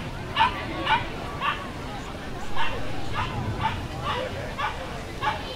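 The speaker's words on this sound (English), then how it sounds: "Dog's trying to be heard over there." Dogs bark in repeated short bursts at a Halloween dog costume parade in Greenwich Village, New York City, set back in the crowd under a steady hubbub of voices and chatter.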